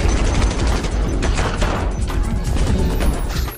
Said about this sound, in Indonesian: Terjadi tembak-tembakan antara satu sama lain.